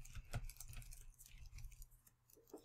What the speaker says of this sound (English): So you can actually type something in